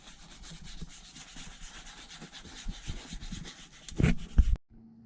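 Leather seats of an Audi 5000 CS Turbo are scrubbed clean, a close, rhythmic brushing rub that builds to a few louder strokes and then stops abruptly.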